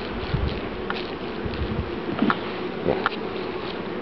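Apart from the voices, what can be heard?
wasps buzzing around a beehive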